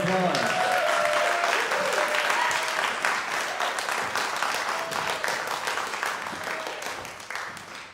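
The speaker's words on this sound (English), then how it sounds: "Give them a round of applause" A concert audience at a youth jazz workshop claps for an ensemble, dense applause that is loud at first and gradually thins and fades over several seconds.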